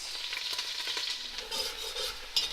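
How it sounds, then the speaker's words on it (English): Onions sautéing in a pot as the base for beef stew give off a steady, close sizzle with a few stirring scrapes and a brief louder crackle near the end, with no talking. "We're gonna let these onions saute for a little bit."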